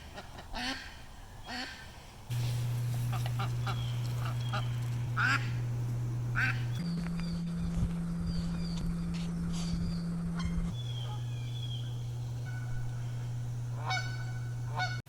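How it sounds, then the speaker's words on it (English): Female pet ducks quack loudly and repeatedly in close, insistent honking calls over a steady low hum, with no talk. "Usually female ducks are really loud"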